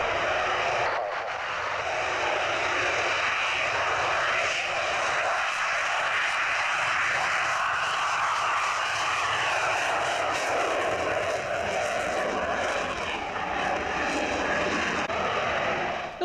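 An aircraft engine drones steadily and continuously, a broad, even roar that holds at the same level throughout with no voices.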